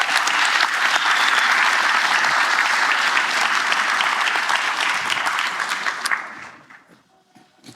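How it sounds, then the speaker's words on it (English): A congregation breaks into loud, dense applause that holds steady for about six seconds, then thins to scattered claps and fades out near the end. "let's give them a round of applause so they hear it"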